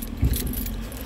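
Keys jangle briefly and close at hand, a short metallic rattle while someone hunts for a car remote, with a low hum in the background.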